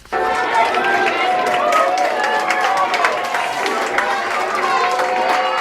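Younger students and former teachers in the halls of an elementary school applaud and cheer continuously for visiting graduates, a dense, loud, steady crowd sound with raised voices mixed in.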